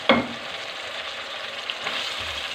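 Ginger garlic paste and tomatoes sauté in a pan, opening with a sharp clink and stir, then settling into a steady close sizzle and crackle that swells again near the end.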